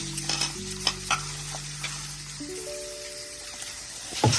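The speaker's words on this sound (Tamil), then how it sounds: "அதே மாதிரி உளுந்து நல்லா கழுவிட்டுங்க." Urad dal for idli and dosa batter is washed by hand in water, with close, repeated swishing and stirring sounds in uneven bursts. A steady tonal hum runs in the background, and no one talks.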